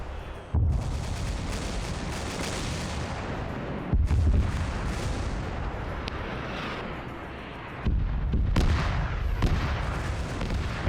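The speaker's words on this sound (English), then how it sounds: "this is kind of cool to watch the Valks fly around while they're taking AAA fire" Anti-aircraft guns in a war video game pour fire at circling Valkyrie aircraft, a dense, continuous roar of gunfire and booms with heavier bursts swelling in at intervals.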